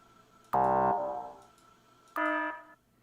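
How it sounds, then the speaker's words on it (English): A low-coal alarm from the Factorio video game sounds twice, two short harsh buzzing electronic tones about a second and a half apart, clear and alone over near silence. "this will alert us if our coal supply runs low"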